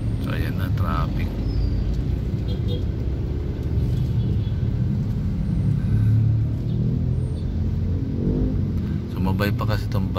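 Congested city road traffic in the Philippines, a steady low rumble of car engines with vehicles moving past close by, continuous and fairly loud throughout, with no one talking.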